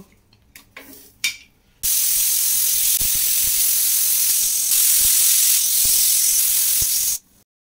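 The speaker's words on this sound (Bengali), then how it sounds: "এবার প্রেসার কুকার আটকে 6টা সিটি দেব।" A pressure cooker of mutton kosha lets out a loud, steady rush of venting steam that runs about five seconds and then cuts off sharply, after a few soft clinks and taps.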